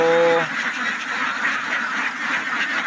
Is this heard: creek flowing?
no